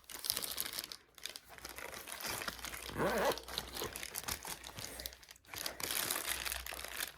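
Small plastic packets inside a shopper bag crinkle and rustle as they are handled close by, in irregular bursts of crackling with brief pauses, no talk.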